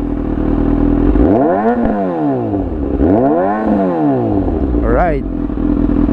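A motorcycle engine with its exhaust roars loud and close, revving up and down twice to nearly 7000 RPM in sweeping rises and falls, then gives a short sharp blip; someone says a word over it.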